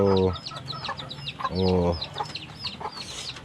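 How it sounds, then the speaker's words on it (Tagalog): A hen and her chicks in a backyard, with loud close clucks from the hen in two bursts and a steady stream of high peeping from the chicks throughout. "Ito mga sisiw natin, ang gold ang inahin."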